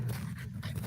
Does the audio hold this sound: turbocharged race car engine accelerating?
no